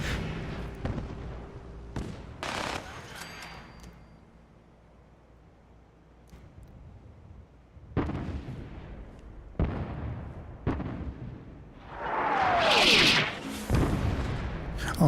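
Artillery salvo rounds explode in Fallout 4, several separate booming blasts spaced irregularly apart, some distant and some closer and louder, between quieter stretches.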